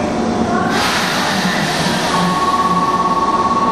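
A Keikyu six-car local train for Uraga stands at a station, its steady low rumble and broadband hiss carrying throughout, with a sustained tone joining partway through the noise.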